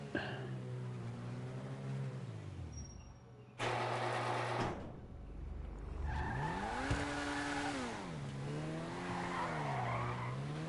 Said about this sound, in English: Let's see if it fishtails easily or not.